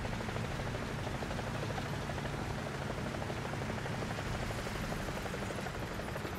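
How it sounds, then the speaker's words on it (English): A helicopter in the War Thunder video game drones continuously at a steady, moderately loud level with a dense rotor buzz and no talk over it. "There's a chopper throwing rockets."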